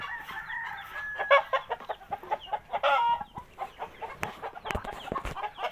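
Several chickens cluck and chatter close by in quick, uneven bursts, with a few sharp clicks among them.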